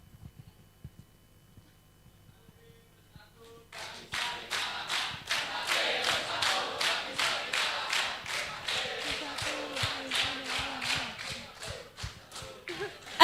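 Supporters at a student of the year event cheer for Joanne with loud, steady rhythmic clapping and shouting that starts suddenly and carries on evenly for about nine seconds after a quiet opening.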